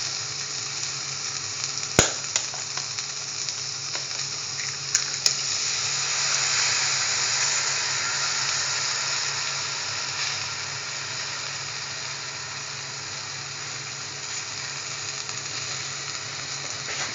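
Two eggs frying in a pan with chili powder, a steady broadband sizzle running throughout with a couple of sharp clicks near the start.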